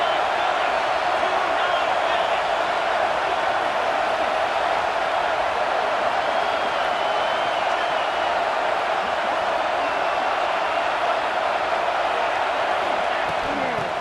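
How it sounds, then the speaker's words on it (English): Steady, loud roar of a college football stadium crowd at an Arizona State versus Auburn game, a dense wash of noise running unbroken throughout with a commentator talking over it. "This crowd trying to make life miserable for this offense."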